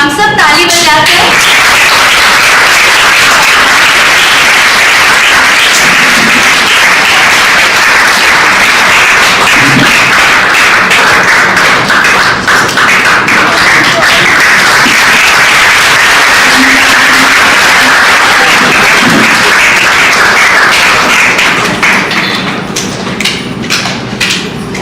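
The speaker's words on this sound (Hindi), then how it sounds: "हम सब ताली बजाते हैं।" A church congregation applauds at an anniversary celebration, with steady, loud, dense clapping that runs nearly unbroken for about twenty-five seconds before easing slightly at the end.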